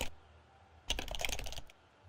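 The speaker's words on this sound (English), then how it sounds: "I like the sound of typing on a keyboard." Typing on a computer keyboard, a quick burst of rapid close clicking keystrokes lasting under a second, after a quiet pause.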